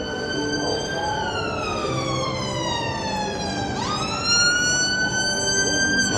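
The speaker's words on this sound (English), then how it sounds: "And it's already sirens in Blackpool." Emergency vehicle siren wailing in Blackpool, a long rising and falling sweep that carries over steady street traffic noise and sounds moderately distant.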